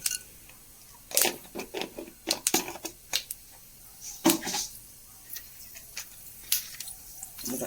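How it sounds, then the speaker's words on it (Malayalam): Half a spoonful of mustard seeds pops in hot oil for a simple mango curry: quiet, scattered sharp crackles and pops at irregular intervals over a faint background, with no talking. "അര സ്പൂണോളം കടുക് ഇട്ട് കൊടുത്തു കടുകൊന്ന് പൊട്ടി വന്നോട്ടെ"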